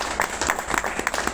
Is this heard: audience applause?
yes